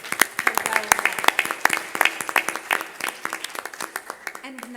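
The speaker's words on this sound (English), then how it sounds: "So let me give to them a round of applause for their work." A conference audience at an Africa-Europe sustainable energy event gives a round of applause, with dense, close clapping that continues steadily throughout and a voice briefly heard near the end.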